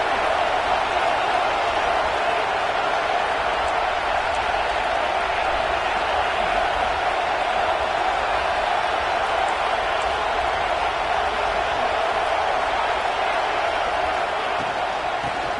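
A home crowd at a Broncos versus Bears football game roars in a continuous, dense wash of cheering and noise, steady and loud throughout with no break.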